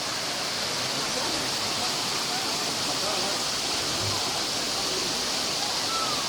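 Waterfall pouring through channels at a mountain plateau picnic spot with tables set in the water, a loud, dense, unbroken rush of water that fills the scene steadily from start to finish.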